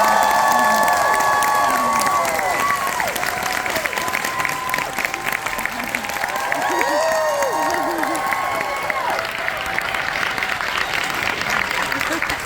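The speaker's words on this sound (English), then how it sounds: "huge round of applause for Mr. Elijah" Fan convention panel crowd at Fan Expo Canada 2022 applauding and cheering for Elijah Wood, loud sustained clapping with whoops and shouts throughout, and a voice talking over the noise.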